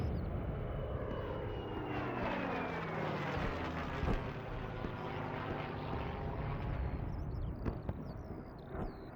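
A Fokker D7 aircraft engine in a flight-sim video game drones loudly and continuously, its pitch shifting as it runs, with no talking over it.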